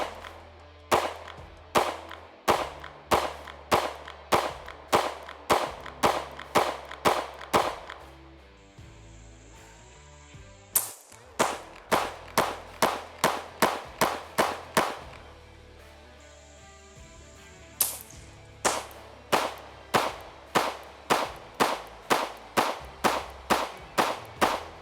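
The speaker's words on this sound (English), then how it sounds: "What we're now going to do is a close-up for recoil comparison so you can see each one of these pistols." Pistol shots from a Sig X-Macro, Springfield Armory Hellcat Pro Comp and CR920, fired in three rapid strings of sharp, loud cracks with short pauses between groups, close to the shooter and with no talking.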